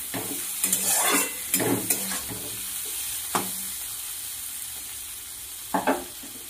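Frying ingredients in a pan are stirred after turmeric is added, giving a close sizzle under repeated scraping and clinking strokes of a spoon against the pan, with no voices.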